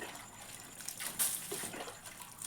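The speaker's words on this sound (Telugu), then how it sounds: "ఉన్న నీళ్ళతోటే చల్లుకుంటాం" Water splashes and trickles onto the ground in irregular bursts, close by, with no voices.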